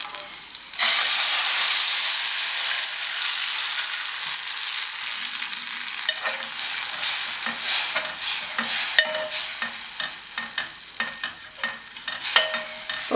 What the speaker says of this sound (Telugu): నేను నెక్స్ట్ ఇందులో మనం ఉడకపెట్టి పెట్టుకున్న వాక్కాయ ముక్కలు వేసేస్తున్నాను.